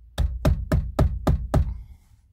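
Six sharp knocks on a door arrive in an even, steady rhythm, close and loud, followed by a brief quiet tail.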